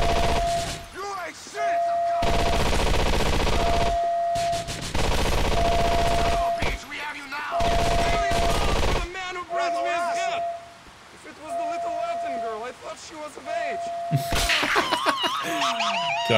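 Gunfire in GTA IV: The Ballad of Gay Tony, heavy bursts of rapid shots in several long volleys separated by short gaps, loud and close, with a steady tone running underneath and a voice in the pauses.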